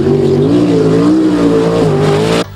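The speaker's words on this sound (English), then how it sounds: "today we've got big-time, ground-pounding, earth-shaking sprint cars" Sprint cars of around 800 horsepower roar past on the Kankakee track, a loud, close, sustained engine howl with wavering pitch that cuts off abruptly at the end.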